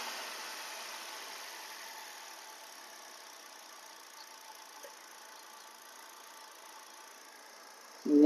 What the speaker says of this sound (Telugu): ఇంజన్ అయితే చాలా స్మూత్గా ఉందండి.